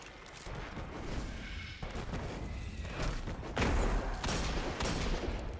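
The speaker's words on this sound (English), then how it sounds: "What a great grenade." A grenade detonating in the shooter game Destiny 2, heard as a burst of booming blasts and rattling gunfire over several seconds, with a heavier impact midway, fairly faint in the mix.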